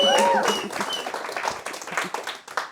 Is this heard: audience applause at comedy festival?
yes